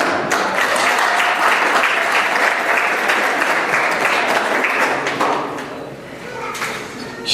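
A church congregation applauds during a twenty-fifth anniversary vow renewal, sustained dense clapping that fades toward the end, with a few thuds at the close.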